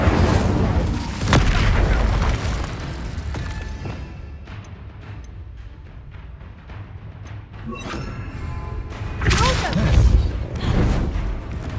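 Fire spells cast in Hogwarts Legacy, a wizard-combat video game: loud booming bursts and whooshing blasts, with a quieter stretch of crackle in between before another heavy burst.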